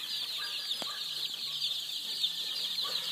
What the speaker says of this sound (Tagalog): yung ating mga sisiw. Yun, nagkakagulo sila.